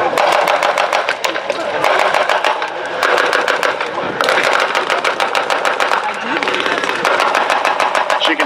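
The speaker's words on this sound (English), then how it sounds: "on the landing craft, he's firing a 50 caliber machine gun" Loud, continuous rapid bursts of a .50 caliber machine gun firing from a landing craft, dense rhythmic shots filling the whole stretch with brief gaps, a voice speaking over the gunfire.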